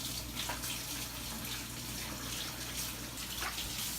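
Tap water runs steadily into a kitchen sink as something is washed during breakfast burrito bowl prep, a continuous close splashing hiss with no talk.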